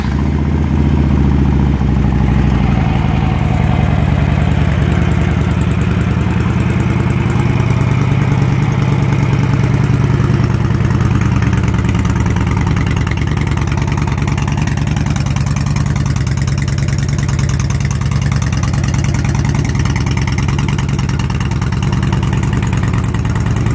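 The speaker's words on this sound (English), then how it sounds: "Great running and sounding bike." A 2007 Harley-Davidson Road King Classic motorcycle engine idles steadily up close, a loud, deep low rumble continuing alone without pause.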